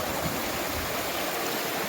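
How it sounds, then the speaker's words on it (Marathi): Water pours steadily out of a pipe laid beneath a riverside spot, making a continuous broadband rushing and gurgling that fills the whole stretch without a break. "हा खाली पाईप टाकल्यामुळे ते फ्लो बघू शकता तुम्ही पाण्याचा"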